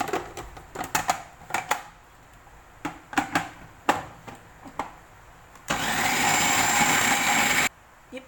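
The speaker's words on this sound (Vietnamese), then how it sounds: "Mình xay thịt thì mình phải lọc hết gân ra, nếu xay thì nó dễ hư cối." An electric meat grinder runs in a home kitchen as meat is ground, a series of short clunks and bursts followed by a steady two-second whirring grind that stops abruptly.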